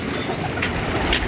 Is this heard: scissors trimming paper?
no